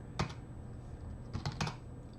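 Several quick keystrokes on a computer keyboard as a command is entered, a short cluster of clicks then a pair of taps, close and fairly quiet against faint background hiss.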